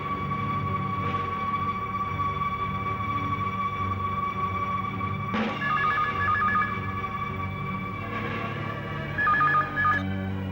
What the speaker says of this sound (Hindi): और अब अगर आपकी इजाजत हो तो अपने मोबाइल से एक फोन कर लूं।